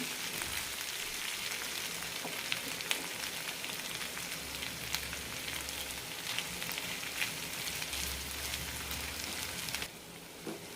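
Curry leaves drop into frying chicken chinthamani, a bright steady sizzle of hot oil crackling throughout, close and even with small sharp pops.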